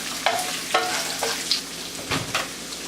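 Bottle gourd and carrot pieces tipped into a pan of frying onions, a few close stirring scrapes over a continuous soft sizzle.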